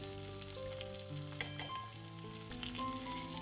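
Thinly sliced onion and finely chopped ginger frying in a pan for oats upma: a continuous soft sizzle with a few stirring knocks, beneath background music.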